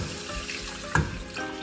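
Seasoned water is poured into a cooking pot while making Jamaican steam fish, a soft running splash and trickle with a brief louder slosh midway.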